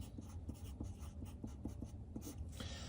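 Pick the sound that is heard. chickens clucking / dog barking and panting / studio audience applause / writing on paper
writing on paper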